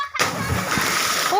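A splash as someone jumps straight into water outdoors, a sharp burst of spray followed by continuous churning water noise, close and fairly loud, with a voice faintly mixed in.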